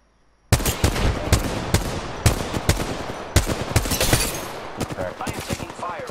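Rapid, close gunfire in Apex Legends, a steady run of sharp shots and bursts after a brief quiet start, continuing densely to the end with some faint voice underneath.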